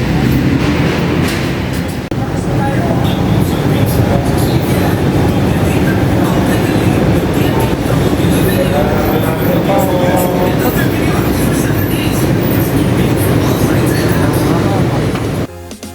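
Loud, steady rumble of an LRT light rail train at a station in Manila, with continuous mechanical noise and a voice talking over it, then it cuts off abruptly.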